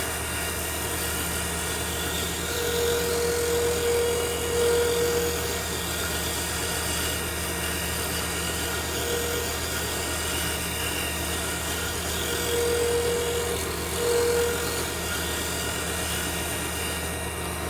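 A wood lathe spins a turned pen on a mandrel while a tool lightly scrapes it. A steady tonal motor hum carries throughout, with faint scraping swells under it.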